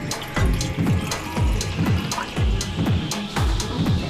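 Water poured into a pot on a stove for making salt crystals, a close rhythmic glugging in repeated pulses under a steady splashing trickle.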